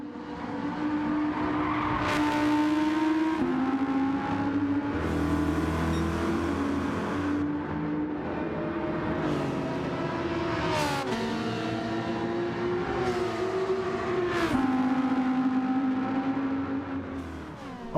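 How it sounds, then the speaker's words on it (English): An Audi touring car at Red Bull Ring in Gran Turismo 7 roars through its gears, its engine revving and climbing, then dropping sharply at each upshift, with transmission whine under a continuous, close exhaust note. "the transmission whine, the gear shift, the exhaust, all of that, all of those sounds"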